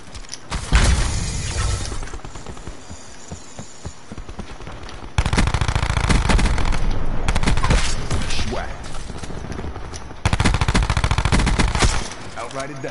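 Black Ops 4 gunfire rattles out in loud rapid bursts, with dense volleys separated by quieter gaps, firing up close and layered under occasional voices.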